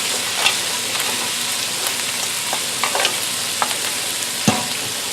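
A pepperoni and steak mixture for cheesesteak pizzaiola fries in a pan with a constant loud sizzle, marked by scattered clicks and scrapes of stirring and no voices.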